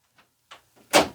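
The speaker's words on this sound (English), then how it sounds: "Jack, he opened the door." A house cat pushing open a door indoors near a sewing room: faint small bumps, then a louder creak or knock and a final burst as the door swings, all short and close.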